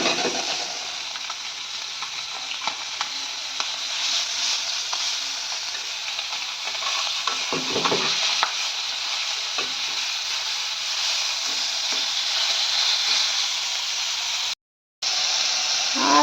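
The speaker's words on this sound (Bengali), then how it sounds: "এই যে মাছ ভাজাটা বসিয়ে দিয়েছি" Fish frying in a pan, with a steady, close hiss and crackle and a few faint stirring touches, cut by a brief gap of silence near the end.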